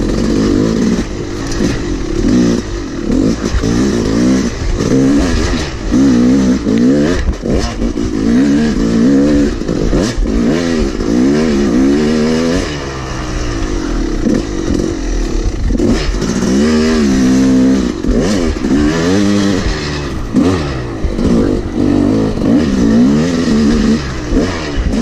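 A dirt bike's engine revs hard on a private motocross track, loud and close, its pitch rising and falling in repeated surges as the throttle opens and closes throughout.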